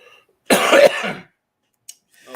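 One person lets out a single loud, rough cough close to the microphone, followed by a faint short follow-up sound in otherwise quiet surroundings.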